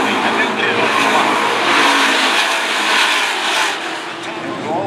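Race cars roar down the back straight in a circuit race, a loud, continuous engine blare and whine under excited commentary, with no gaps as the pack passes.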